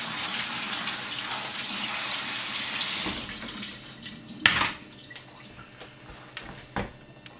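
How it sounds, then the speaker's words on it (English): Tap water runs into a sink as Brussels sprouts are rinsed. It is a steady close splashing rush that thins after a few seconds into lighter trickles and a couple of sharper splashes. "And then thoroughly rinse them off."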